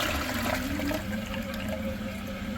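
Liberty Pumps Ascent II macerating upflush toilet running its flush and bowl rinse, a steady rushing swirl of water with a low pump hum underneath, continuous and close for the whole stretch.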